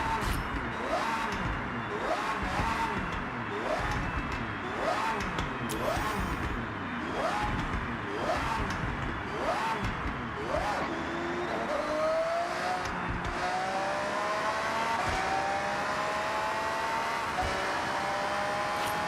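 Car engine in the video game Forza Horizon 6, repeatedly revving and rising through gears in a steady rhythm, loud and close, then climbing in long sweeps, with a voice in the background.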